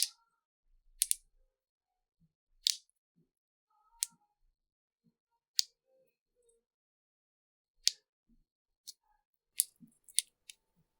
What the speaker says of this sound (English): I'm going to use a razor blade to peel it off of here.